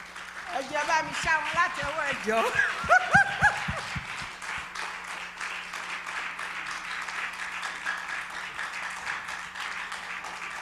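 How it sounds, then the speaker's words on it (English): An audience at a community health outreach event on cancer breaks into sustained applause, steady and moderately loud, which starts after a few seconds of speech from the stage and carries on to the end. "Kindly, please, help me give him a round of applause."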